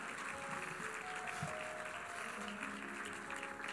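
A church congregation applauds during an evening service, a dense steady patter of many hands clapping at moderate level throughout, with faint background tones.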